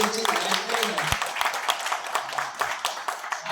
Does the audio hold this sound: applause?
yes